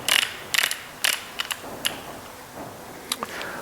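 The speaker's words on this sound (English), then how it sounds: "Make sure when you're finished to unlock the torque wrench, wind it back down to the stop position." A torque wrench is wound back down to its stop position, giving a series of sharp ratcheting clicks in irregular bursts, close and fairly quiet, with no talking.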